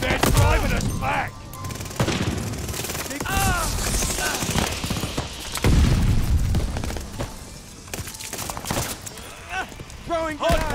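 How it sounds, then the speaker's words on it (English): Grenade blasts and rapid gunfire in Call of Duty: Vanguard multiplayer on PS5, loud dense bursts of shots with booming impacts throughout, heavily mixed with shouted in-game voice callouts. "Throwing grenade!"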